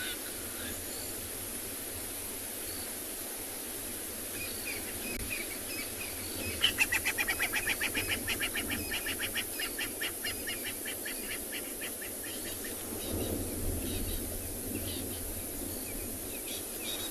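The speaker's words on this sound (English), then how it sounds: "There's crested francolins, Burchell starlings, red-crested corehorn I can hear in the background." Crested francolins, Burchell's starlings and red-crested korhaan calling at sunrise in the wild, a rapid accelerating series of clicking calls midway with other distant birdsong over a soft insect background.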